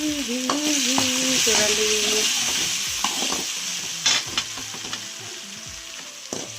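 Tomatoes soften in a pan for a Rayalaseema-style radish pulusu, sizzling steadily up close as a spoon stirs and clinks against the pan, with a short spoken word at the start.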